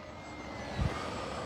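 An E-flite P-51D Mustang, a 1.0 m electric RC model warbird with a two-bladed prop, flying during its maiden flights; a steady broad motor-and-prop drone holds throughout at moderate distance with a brief louder low swell partway.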